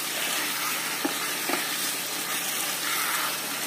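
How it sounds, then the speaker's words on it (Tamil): Chicken pieces sizzle steadily in hot masala for Malabar chicken dum biryani, a constant even frying hiss with a couple of faint stirring knocks. "இப்போ வதங்கிட்டு இருக்கும்போது நான் எடுத்து வச்சிருக்கேன் இந்த சிக்கனையும் இதுல போட வேண்டியது, போட்டு மிக்ஸ் பண்ண வேண்டியதான்"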